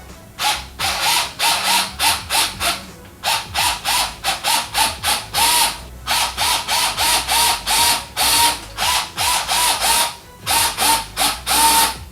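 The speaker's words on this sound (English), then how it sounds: "you basically want to get the screws and your screwdriver to install it" A screwdriver drives screws into the base of a Trustech oscillating air cooler fan, making close, loud ratcheting clicks in quick bursts. Several runs of rhythmic clicking are separated by short pauses.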